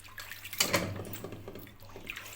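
Water drains from freshly washed amaranth greens set in a mesh strainer: a soft splash near the start, then quiet, scattered trickles and drips, heard close up with no speech.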